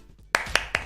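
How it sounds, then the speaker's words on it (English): Three sharp, separate hand claps spaced evenly on a morning radio show, close and crisp after a brief quiet lead-in. "Everybody clap."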